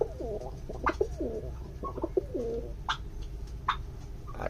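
A male Giribaz pigeon coos in repeated soft, rolling phrases close by, with a few sharp clicks and rustles between calls against a quiet background.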